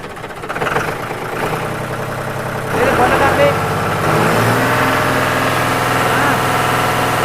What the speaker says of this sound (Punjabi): ਆਪਾਂ ਇਹਦੀ ਬੜਕ ਵੀ ਦੇਖ ਲਈਏ ਹੁਣ ਕੀ ਕਹਿੰਦਾ ਟਰੈਕਟਰ